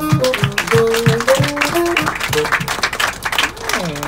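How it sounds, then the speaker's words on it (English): Passengers clap on a New York City party tour bus, scattered close hand claps mixed with tonal voices or music in a lively, cramped interior. "Let's give him a round of applause if we can't get his attention"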